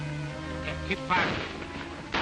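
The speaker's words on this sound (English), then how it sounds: "Keep firing." Gunfire from a 1939 western film, a few sharp shots crackling over a busy mixed soundtrack with music or voices underneath, fairly loud and close.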